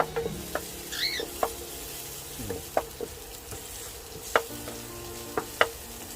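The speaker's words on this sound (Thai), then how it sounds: "ถ้าพริกสด เราต้อง ผัดกับน้ำมันก่อนให้มันหอมนะครับผม" Fresh chillies stir-frying in oil in a pan, a low steady sizzle with scattered sharp clicks and scrapes of the spatula, close and quiet, with no talking.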